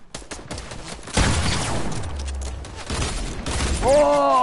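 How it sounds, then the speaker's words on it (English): Turret gunfire in a video game, repeated sharp bursts and booms over a dense game soundscape, with short voiced sounds near the end. "That's the turret that got me."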